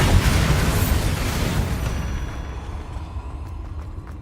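Bombarda spell explosion in the video game Hogwarts Legacy, a loud booming blast already under way that rumbles and slowly fades into a low tail over a few seconds, with no talking.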